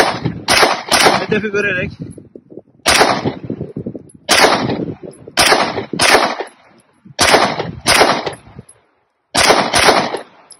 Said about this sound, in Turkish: Şimdi Canik TF9 S Combat'la hocamız atış yapacak.